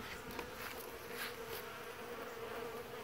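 Honey bees buzz at the hive during a goldenrod bloom while bringing in pollen, a dense, steady, faint hum of many insects with a few individual bees passing close.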